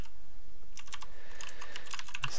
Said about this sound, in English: That is less typing.